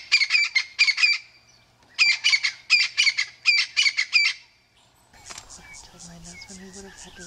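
A crested francolin in the African bush gives loud, harsh rattling calls in three rapid bursts of repeated notes, then stops as a person starts talking over faint background bird chatter.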